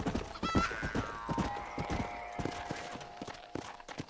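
Horse hooves clip-clop at a slow walk in the Red Dead Redemption Wild West game, an uneven run of close, fairly loud steps with a brief whinny near the start and a sustained tonal hum behind it.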